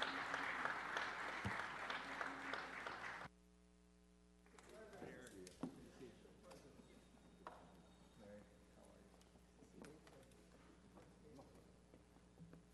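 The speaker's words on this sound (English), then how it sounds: "Let's give our mayor a round of applause." Loud applause fills a Los Angeles city council chamber as the mayor is welcomed, running steadily for about three seconds before cutting off; quieter room sounds and speech follow.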